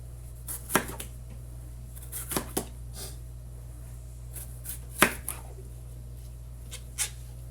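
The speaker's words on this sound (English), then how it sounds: "So I'm just going to cut this into rings for now." A knife chops a pepper into rings on a cutting board, giving sharp, irregular cuts spaced about a second apart over a low steady hum.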